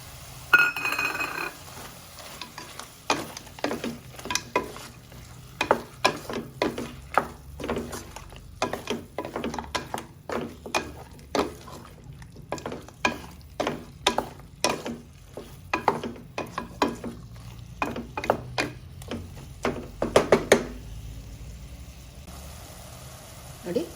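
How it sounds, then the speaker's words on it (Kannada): Rabbit meat frying in oil with tomato added, stirred in a pan: repeated scraping and clinking strokes of a spoon against the pan over a low sizzle, fairly close, with occasional speech. "ಮೀಟೆಲ್ಲ ಚೆನ್ನಾಗಿ ಫ್ರೈ ಆಗಿದೆ ಎಣ್ಣೆಯಲ್ಲಿ ಈಗ ಇದಕ್ಕೆ ಟೊಮೊಟೊ ಹಾಕ್ತಾ ಇದ್ದೀನಿ"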